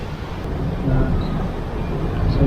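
Wind gusting at Fort Santiago in Intramuros, Manila on a rainy day, a steady low rumbling roar that swells slightly, buffeting the microphone throughout with no voices.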